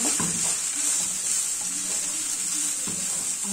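Fish fried rice with green onion being stir-fried in a hot pan: a steady bright sizzle throughout, with repeated scraping and tossing strokes of a utensil against the pan.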